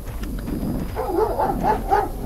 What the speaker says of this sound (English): Oh, I didn't know I had a dog.